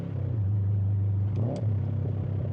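Car engine blipped during a rev-matched downshift with slightly too much throttle, a steady low engine drone rising into a brief, sharp rev swell near the middle, close and continuous.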